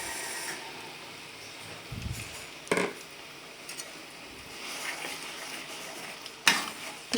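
Blended chili paste sautéing in a little oil for Minang-style balado, a soft sizzle with occasional stirring scrapes and clatters of a utensil against the pan, fairly quiet and without speech.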